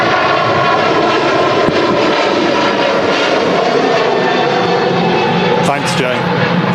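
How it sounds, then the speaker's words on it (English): An Air Transat A321neo airliner taxis at Manchester Airport, its engines producing a steady, loud broadband roar that holds throughout, with a brief higher whine near the end. "Air Transat 321 Neo taxiing out."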